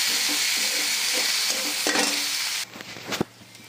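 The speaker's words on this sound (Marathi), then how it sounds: "त्याचबरोबर हळद टाकत आहोत आणि हे एकजीव करून घेत आहोत।" Turmeric stirred into a sizzling dal mixture in a pan while making Takla bhaji, with steady frying hiss and a few spoon scrapes before the sizzle drops away sharply near the end.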